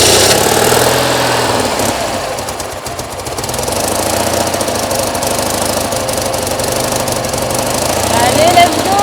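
An 18-horsepower engine runs loud and steady close by, its rough knocking drone holding throughout, dipping briefly then surging again toward the end, with people talking over it.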